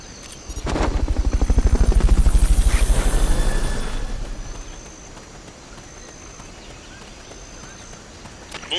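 A Fulton recovery helicopter in the Metal Gear Solid video game, its rotor thudding in a fast, loud chop that swells, holds for a few seconds, then fades away, leaving quiet background.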